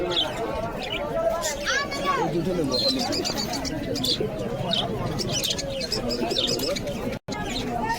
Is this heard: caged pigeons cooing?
yes